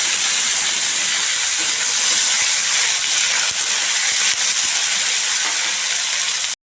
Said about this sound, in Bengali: কালো জিরে আর সাদা জিরে ফোড়ন দিয়ে দিলাম